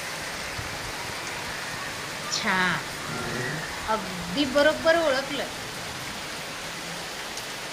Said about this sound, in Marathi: हा आवाज आहे रिमझिम रिमझिम पडणाऱ्या पावसाचा